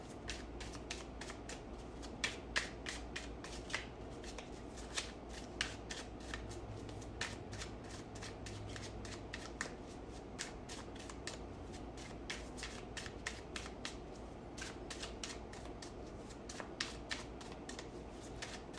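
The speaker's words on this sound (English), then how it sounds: "These cards are a lot more silent than my other cards." Tarot cards are shuffled over and over at close range, a quiet run of rapid riffling flicks and soft taps repeating throughout.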